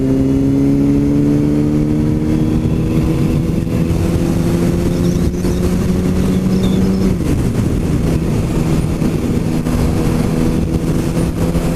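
A motorcycle engine drones steadily while the rider leans hard into a tight corner, its pitch holding and then dropping as the throttle eases mid-turn, loud and continuous with wind rush underneath.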